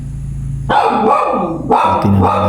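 A dog barks twice, close and loud, each a deep bark with a short growly tail, separated by about a second, over a low steady background hum.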